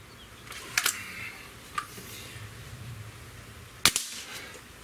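A Sig Sauer ASP20 break barrel air rifle fires, with sharp cracks at about one, two and four seconds over quiet background hiss. The last report is the loudest.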